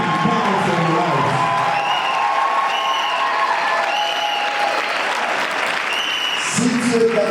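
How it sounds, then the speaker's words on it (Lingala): A church congregation claps hands together in dense, continuous applause with occasional cheers, loud and close, while a preacher's voice carries over it. "Put your hands together because there is a decision that will come down from your life"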